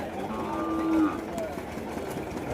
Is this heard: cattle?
yes